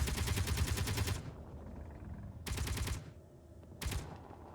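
Automated turrets firing in the game Underground Alone, one long rapid burst followed by two shorter bursts of fast, loud machine-gun fire.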